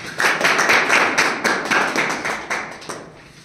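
An audience at a business seminar in Akola claps together in welcome, a close burst of sharp, fairly rhythmic hand claps that ends after a few seconds.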